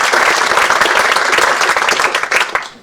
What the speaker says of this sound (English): let's have a round of applause for David.